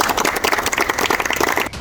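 A crowd claps steadily and densely at a football tournament for its organisers, many hands overlapping in a close, continuous patter that fades out at the end.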